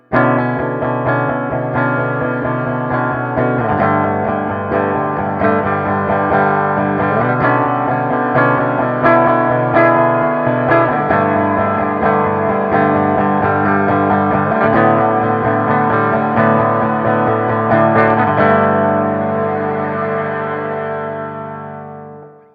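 Electric guitar played through a Pigtronix Cosmosis effects pedal, loud sustained chords with shimmering, modulated and echoing layers that shift every few seconds, ringing out alone and fading at the end.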